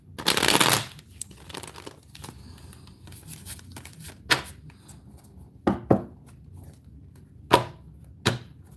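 A tarot deck is shuffled by hand during a live card reading. A loud, brisk riffle of cards comes first, followed by quieter scattered slaps and taps of the cards in a quiet room.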